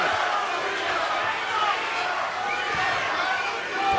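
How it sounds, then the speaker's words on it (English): A sold-out crowd at a bare-knuckle fight night in Clearwater, Florida roars steadily, its voices merging into a dense, continuous wash that rises and falls slightly as fans chant a fighter's name. "The chant of Reber from the sold-out Florida crowd."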